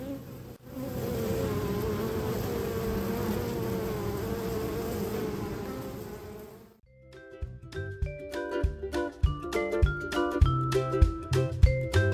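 Honey bees hum in a dense, continuous buzz close to a brood frame of capped cells for several seconds before bright, plucky music takes over.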